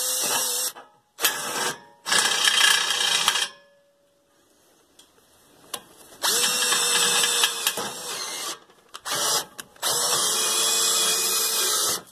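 A power drill whirs in several bursts of a few seconds each, close and loud, separated by brief quiet gaps and small handling sounds.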